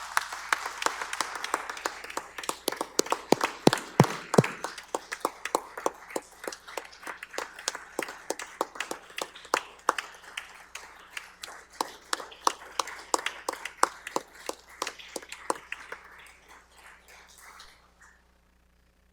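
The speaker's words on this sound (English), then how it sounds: "Please join me in a round of applause to pay tribute to this remarkable leader" A State of the State address audience delivers a steady round of applause in tribute to the first woman governor, dense clapping that thins out and fades toward the end.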